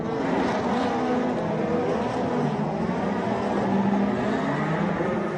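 Formula Boss Ireland racing cars, some of them modern-era Formula 3 machines, pull away at a race start in a dense, loud, continuous roar of many engines at once, with no talk.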